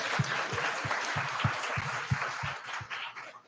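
An audience claps at a business networking talk event, rendered as a steady wash of applause with a few sharper, louder claps standing out through roughly three seconds.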